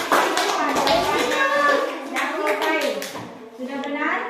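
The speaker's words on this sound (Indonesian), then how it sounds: "Kita kasih tepuk tangan untuk" Children in a classroom clap together in quick rhythmic bursts, mixed with overlapping young voices talking and calling out close by throughout.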